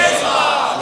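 A large crowd at a religious gathering shouts back a slogan in unison, a loud, dense roar of voices filling the whole brief moment.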